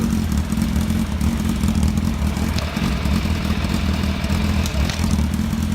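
A motorcycle engine idles steadily after a choke start while being prepped for a track day, a continuous close, loud low rumble with light mechanical clatter and no talking.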